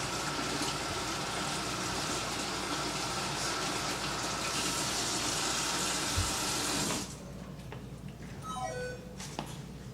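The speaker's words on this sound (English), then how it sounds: "We're going to wash our green pepper." A green pepper washed under a running kitchen tap while making sofrito: a loud, steady gush of water for about seven seconds that shuts off, leaving a faint high descending tone and a quiet room.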